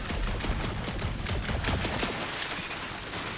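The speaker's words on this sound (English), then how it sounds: "Shooting your way out of every problem again" Sustained rapid gunfire crackles continuously in Marvel's Guardians of the Galaxy, dense overlapping shots under a steady roar with a few sharper bursts standing out.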